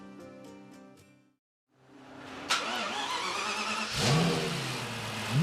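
Lexus LFA 4.8-litre engine on a test bench, first a short tonal lead-in and then two sharp, loud revs that climb and fall back quickly, close up.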